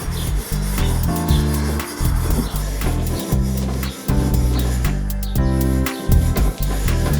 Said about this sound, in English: And this is steel wool.